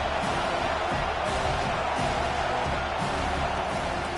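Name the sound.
stadium crowd cheering in video game NCAA 25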